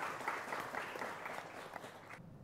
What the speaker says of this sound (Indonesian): Boleh berikan tepuk tangan untuk Ibu Kun Ernawati